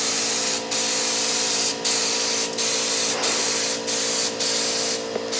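A spray gun hisses a paint coat onto an old Super M motorcycle, a loud continuous close-up spray broken by short regular pauses, with a low steady hum beneath.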